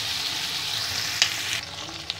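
Paneer and capsicum fry lightly in mustard oil, a steady close sizzling hiss with a couple of brief sharp pops or clinks over it.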